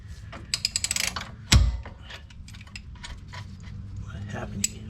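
A hand ratchet gives a quick burst of close, even clicks while snugging down bolts on a Porsche 911 rear suspension, followed by a loud metallic clunk and faint handling noise, with a voice in the background.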